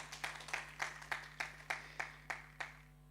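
A small round of hand claps from a conference audience at a UK wealth summit: about nine evenly spaced, fairly quiet claps that stop abruptly, leaving a low hum.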